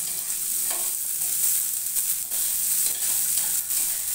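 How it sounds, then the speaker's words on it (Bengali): Cashews and raisins fry in hot ghee in a pan for a fried rice dish, giving a steady close sizzle with occasional stirring scrapes and no talking. "ঘি গরম করে আমি এখানে কাজু কিশমিশটা ভেজে নেব।"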